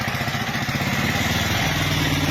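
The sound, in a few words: motor vehicle engine running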